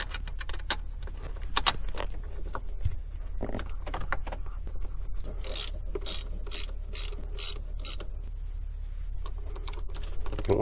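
A small bolt on a Hyundai Santa Fe's water neck is started and turned with a ratchet, giving quiet clicking runs and metallic taps, with a burst of rapid ratcheting in the middle and no talk.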